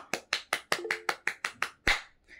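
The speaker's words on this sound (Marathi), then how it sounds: "एकदा उईके सरांसाठी जोरदार टाळ्या वाजून जाऊ दे आपण." Sharp hand claps ring out one by one in an even, brisk rhythm, about ten in a row, with a louder clap near the end and a brief faint sound after it, all close and clear in a classroom.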